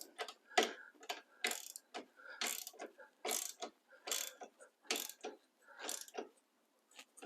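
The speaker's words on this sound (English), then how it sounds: "Now you can take a socket wrench" A socket wrench ratchets to snug a bolt on a Saris powered eBike rack, a steady series of short close clicking bursts at an even rhythm, faint and alone.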